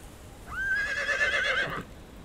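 A horse in the video game Conan Exiles gives a single loud, close whinny lasting about a second, rising then wavering before fading into quiet background noise.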